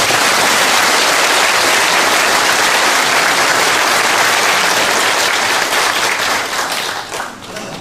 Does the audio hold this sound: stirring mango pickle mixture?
no